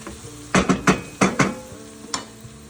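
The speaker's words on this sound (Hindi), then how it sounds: "चिकन की फ्राई करसा 3-4 मिनट" Chicken frying with garlic ginger paste and masala in a pan for a home-style chicken curry: a handful of sharp stirring scrapes and clinks against the pan over a faint sizzle, close and without talk.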